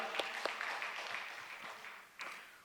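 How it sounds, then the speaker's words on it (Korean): Congregation clapping during a Korean church worship service, a scattered patter of hands with a few sharper claps, moderately loud and fading slightly before a brief renewed burst near the end. "우리에게 성령을 주신 주님께 영광의 박수드립니다."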